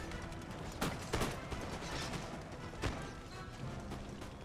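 Musket volleys from a regiment in the video game Imperial Destroyer, Netherlands campaign: several sharp, crackling bursts of massed fire, grouped near the start and again a little later, over a steady rumbling battle din.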